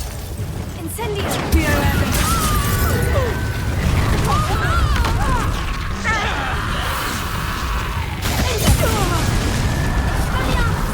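A fire spell cast in the video game Hogwarts Legacy, heard as booming blasts and crackling bursts within a dense, loud game soundscape of effects and music, with voices speaking over it.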